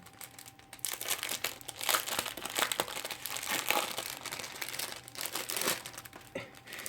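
A plastic packet of diamond painting drills is torn and crinkled open, making loud, steady rustling and crackling close up with short pauses between the tugs.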